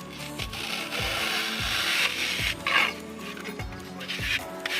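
A part is trimmed to fit for a shaved license plate on a Lexus LS400, making rhythmic back-and-forth rasping strokes up close, each with a low scraping thump, about eight strokes in a row.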